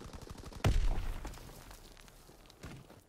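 Gunfire in a WW2 video game: one sharp, fairly close shot cracks out early, followed by scattered fainter distant shots and a softer report near the end.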